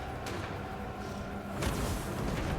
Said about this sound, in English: I just want these fucking cannons to fire.